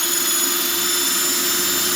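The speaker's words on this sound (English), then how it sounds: "I'm gonna drill them all the way around" A steady, high-pitched motorized whine drones without pause, loud and close, as a power drill runs continuously drilling holes for a rabbit nest box.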